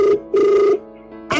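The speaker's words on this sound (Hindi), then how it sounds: "बख्तावर ने फोन काट दिया, मैं एक बार फिर से देख लेता हूँ इनको।" An outgoing phone call rings back in loud, close bursts: two long electronic ring tones separated by a short pause, with a gap before a third begins, no talking over them.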